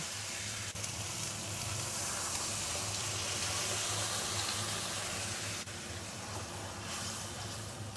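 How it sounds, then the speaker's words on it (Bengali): Water hits a hot pan of mung dal and poppy seed for a Bengali vegetarian mung posto, raising a steady, loud sizzling hiss that runs unbroken to the end with no voices. "এবার দিয়ে দেবো জল।"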